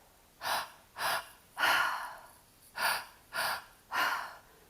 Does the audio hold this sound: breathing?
yes